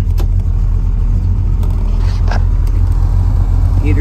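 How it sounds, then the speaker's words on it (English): Inside a 1969 Dodge Dart with a 360 automatic, the heater blower runs with a loud, steady low rumble and whir, broken by a few faint clicks and scrapes, with no talk. "Heater blower works."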